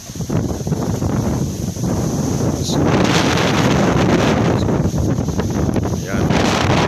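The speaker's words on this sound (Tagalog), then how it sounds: "Lakas ang hangin." Strong typhoon wind from Typhoon Rolly lashes an area of houses in Cavite, roaring steadily and buffeting the microphone with rumbling gusts for several seconds. A voice speaks faintly under the noise.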